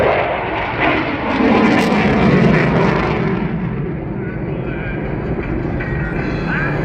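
A Eurofighter Typhoon in its 2022 Blackjack livery flies an air show display at RIAT, a loud, roaring jet blast that swells and then trails off into a steady distant rumble, with a voice faintly underneath.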